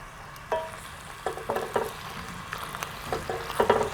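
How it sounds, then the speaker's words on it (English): Cheesy mac and cheese being stirred in a pot, soft wet squelching and sticky scraping in a few separate strokes, close and moderately loud with a low background hum. "I love that sound. That like cheesy mac and cheesy kind of sound."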